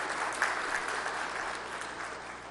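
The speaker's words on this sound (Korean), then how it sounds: "생일 축하해 주시기 바랍니다." Congregation applauding in a church during a Sunday morning worship service to congratulate members on their birthdays, a steady, dense clapping that fills the whole moment without talk.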